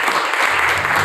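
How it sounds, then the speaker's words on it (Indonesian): A church audience applauds during a sermon, a dense, steady wash of many hands clapping at once, fairly loud and continuous with no pauses. "Berikan tepuk tangan."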